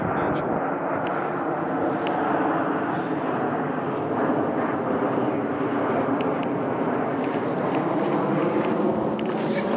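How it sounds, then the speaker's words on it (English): Aeroplane passing overhead during a late winter nature walk, a continuous broad rumbling roar that stays steady and fairly loud throughout, heard alone without talking. "Wow, aeroplane."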